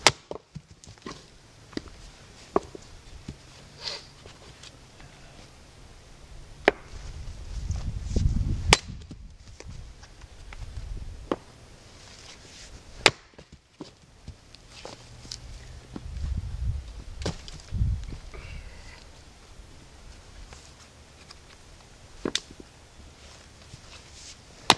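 A Condor Greenland Pathfinder axe chops through tough oak, giving a few scattered sharp strikes with quieter handling between them, close and fairly faint, with no talking.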